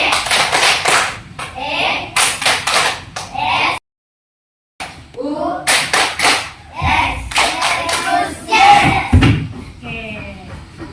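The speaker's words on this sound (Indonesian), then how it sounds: "Tepuk Yesus." Children in a classroom perform a rhythmic Jesus clap chant, bursts of patterned clapping alternating with sung or chanted voices, a brief silent gap midway, then more clapping and chanting.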